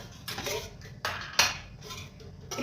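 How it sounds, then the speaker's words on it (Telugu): A metal kadai is set down on a stove in a home kitchen, making a few sharp clanks and scrapes spread over a couple of seconds. It is fairly quiet and close, with no talking. "ఇప్పుడైతే మనము స్టవ్ ఆన్ చేసుకొని ఒక కడాయి పెట్టుకొని"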